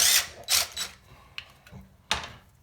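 A power tool loosens the valve cover bolts on a lawnmower engine in short, loud whirring bursts separated by quieter gaps and faint metallic clicks.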